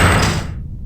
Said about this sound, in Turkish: Dur şu kapıyı örtelim de gelir.